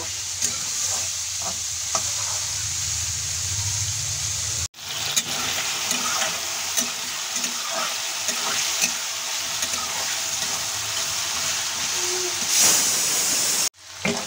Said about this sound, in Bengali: চুলার আঁচ মিডিয়াম ফ্লেমে রেখে আমি মাশরুমগুলো ফ্রাই করে নেব